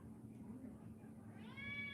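A house cat meows near the end, a rising tonal call over a steady low background hum in a room during a live studio stream.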